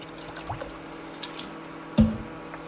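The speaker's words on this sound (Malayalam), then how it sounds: "ഇനി ആവശ്യത്തിനുള്ള വെള്ളം ഒഴിച്ചു കൊടുക്കണം." Water splashes into a pot of raw mango rasam, with quiet trickling and drips followed by one sharper splash near the end, close and fairly soft, with no one speaking.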